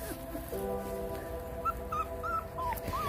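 An 18-day-old puppy whimpers and yips in thin, rising cries, several short whines near the microphone with quiet background between them.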